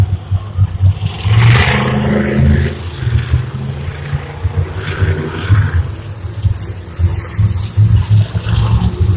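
Monster truck engines rumble and rev on a race track at a competition, a loud, continuous low roar with surging swells and a steady crowd-and-arena wash throughout.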